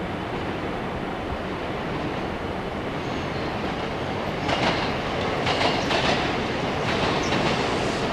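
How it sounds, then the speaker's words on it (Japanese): A Sobu Line local train pulls out of Kinshicho station in Japan, a loud, close rush of wheel and rail rumble with rhythmic clacking that swells as it departs. "1番線中野行きはただいま1回で発車しております。"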